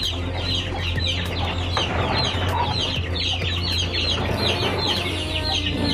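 Breeder chickens cluck steadily in a dense flock chorus while they eat, over a constant low hum, with no pauses.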